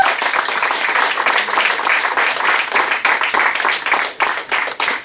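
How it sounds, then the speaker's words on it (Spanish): A church congregation applauds during a Spanish-language service, with loud, dense, sustained clapping from many hands at close range, steady throughout with slight rhythmic swells. "Denle un aplauso al Señor."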